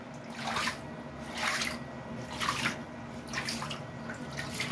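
Water runs and splashes in a bearded dragon's bath, coming in several soft surging pulses over a steady trickle at close range.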